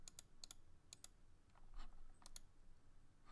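Keys tapped on a computer keyboard, a few quiet, close clicks in small irregular bursts with short pauses between them.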